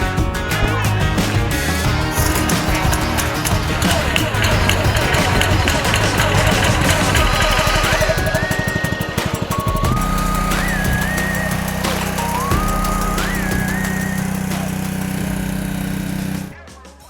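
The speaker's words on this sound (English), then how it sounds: "your choice of either a Honda or Kohler 4-stroke engine, driving a heavy-duty hydraulic system capable of delivering up to 30 tonnes of splitting force" A Honda 4-stroke engine powering a Truyard LS30 30-tonne hydraulic log splitter runs at a loud, steady drone for about sixteen seconds, mixed with tonal sounds, then cuts off abruptly.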